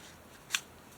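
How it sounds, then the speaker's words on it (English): A single crisp snip of scissors cutting paper, close and brief against a quiet background, with a faint second touch at the end. "let's just cut out here."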